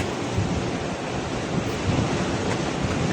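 Surf rolls in steadily at Manora beach, a continuous broadband wash of breaking waves mixed with wind buffeting the microphone, fairly loud and unbroken throughout, with no voices.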